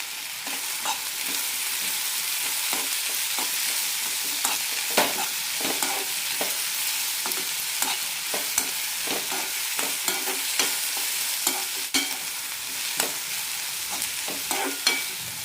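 Chopped onion and tomato sautéing in a pan for onion chutney, with a constant soft sizzle under frequent rhythmic scraping from a stirring spoon, close up, and no voices.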